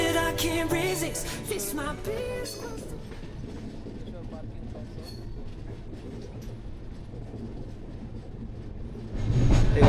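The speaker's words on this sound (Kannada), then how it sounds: "ಈಗ ತ್ರಿಶೂರಿಂದ ಟ್ರೈನ್ ಬಿಡ್ತು," A passenger train pulls out of Thrissur station with a steady low rumble and rail noise throughout, louder near the end; voices are heard during the opening seconds.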